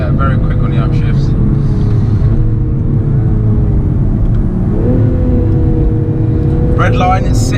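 A 2020 Toyota GR Supra with a turbocharged engine and ZF automatic gearbox pulls hard under acceleration, its steady engine drone dipping briefly at each quick upshift, loud and close from inside the cabin with a voice talking over it.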